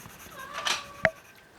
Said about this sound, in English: I wonder if you could hear my cat. He's crying at the window.